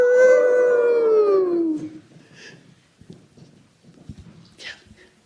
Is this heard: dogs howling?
yes